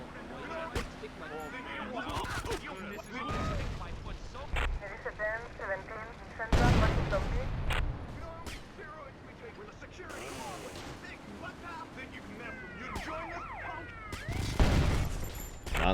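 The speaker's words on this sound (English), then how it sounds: "Let's see how the grenades work." Grenade blasts in GTA Vice City, with two heavy booming bursts standing out amid steady game noise, gunfire-like crackle and voices talking throughout.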